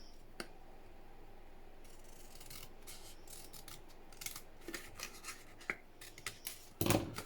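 Scissors cut paper pieces for ATC craft cards, quiet close snips and crisp slicing scrapes, growing busier and louder toward the end with no talk.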